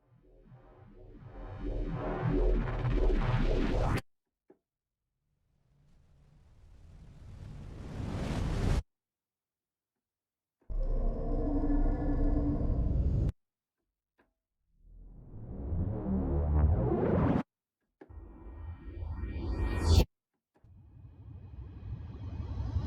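Reversed implosion effects from the Red Room Audio Sounds from Beyond library play one after another, each swelling from quiet into a loud, abrupt cutoff, separated by short silences.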